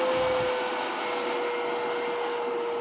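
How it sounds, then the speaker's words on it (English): Kenmore 600 Series Pop-N-Go canister vacuum running steadily at reduced suction, a constant close motor whine with a sharp single tone and airy hiss throughout, no talk. "So I can control the amount of suction that this vacuum puts out or generates."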